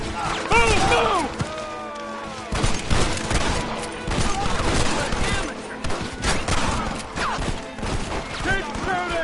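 Rapid bursts of gunfire in the Western video game Red Dead Redemption, many loud shots cracking in quick succession, mixed with shouting voices.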